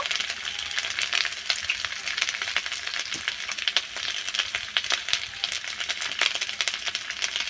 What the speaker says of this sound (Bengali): মশলাগুলো বেশ ভালো করে কষে নিয়েছি